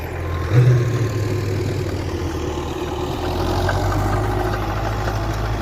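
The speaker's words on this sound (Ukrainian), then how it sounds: "Трактор трошки курнув і пішов." An MTZ-82.1 tractor with a Vega Profi seeder sowing sunflowers in a field, its diesel engine running at a steady, close, droning idle with a deep low rumble that thickens slightly partway through.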